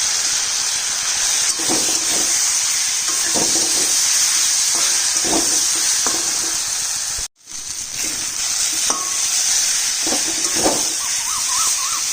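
Ground matar dal (pea lentil) paste hisses and sizzles steadily in hot oil with turmeric, a continuous loud frying noise with occasional stirring scrapes and a brief cut partway through.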